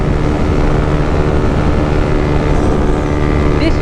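A KTM 390 Duke motorcycle ridden at wide open throttle on a slight uphill, a loud, steady engine drone mixed with wind rush that holds unbroken throughout.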